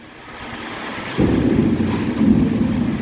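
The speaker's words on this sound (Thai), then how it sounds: "ฟังเสียงฟ้าแล้วกันนะครับ" Thunder from a storm with heavy rain in Bangkok rolls in with a sudden low rumble that swells and continues, loud and broad over a windy background.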